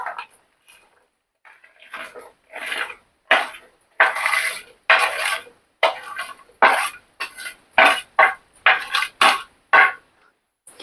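Chicken pieces stirred into fried ginger paste in a pan for a pickle, with repeated scraping and clattering strokes of a spoon against metal, close and fairly loud, in an uneven rhythm with brief pauses.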